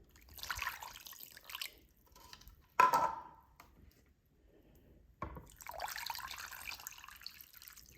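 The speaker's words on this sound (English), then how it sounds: "And then I will also add all of the water." Water pours and splashes in a few bursts into a pot with sugar for candy apples, a sharp splash near the middle, then a longer steady pour trickling into the vessel.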